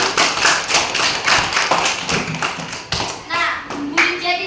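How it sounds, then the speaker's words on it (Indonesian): Schoolchildren in a classroom clap for a classmate, a brisk, uneven patter of small hands close by, mixed with thumps and taps, while a voice talks through the end. "Kita tepuk tangan untuk teman kita."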